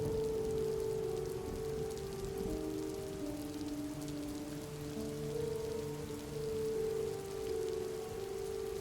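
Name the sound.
rain falling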